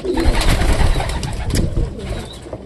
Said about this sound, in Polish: Gołąbki na oblocie.